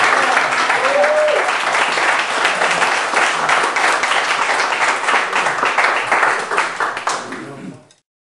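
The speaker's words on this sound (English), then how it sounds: "I'm honored to be part of this applauding." Dense, sustained applause from an audience at a fire walk seminar, loud and steady for about eight seconds before cutting off.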